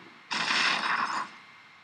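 A torpedo strikes an enemy ship in the naval combat of the video game Battle Nations, a single loud, dense burst of about one second, rising sharply and cutting off abruptly.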